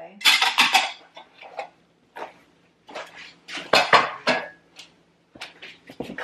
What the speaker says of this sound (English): Dirty dishes, so these I can just move out of the way.